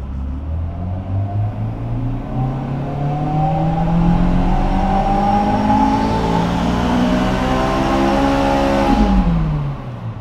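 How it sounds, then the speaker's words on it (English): A supercharged AP2 Honda S2000 on a dyno revs through a long pull, its loud engine note climbing steadily in pitch, with a belt squeal mixed in, before cutting off sharply near the end. "Actually could still hear the belt squealing there, so its belt is still slipping, unfortunately."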